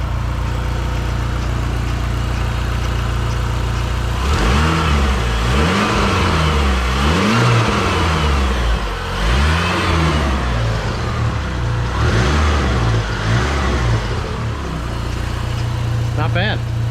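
A Dodge SRT-4 engine idles, then revs repeatedly in rising and falling sweeps during a compression and transmission check before settling back to a steady idle, loud and close.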